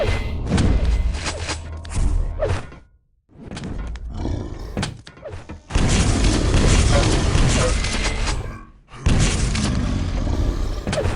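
Rocket explosions and heavy weapon blasts in a Quake Live duel match, loud booming thuds in dense bursts separated by brief gaps, with constant game noise and no talk.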